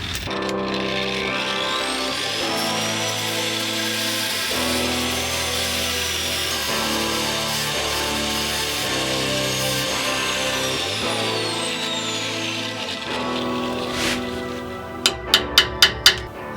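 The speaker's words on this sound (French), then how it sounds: "Je fais un trou traversant pour que ça puisse passer au travers. Donc d'un diamètre de 8." Drill boring an 8 mm through hole in a metal part, a continuous close whirring grind with a steady pitched hum, ending in a short run of sharp clicks, no talk.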